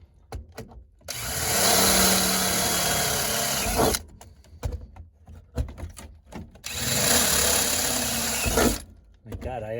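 A power drill enlarges a starter hole during work on a 1966 Dodge Dart GT, whirring loudly in two sustained bursts separated by clicks and handling noises.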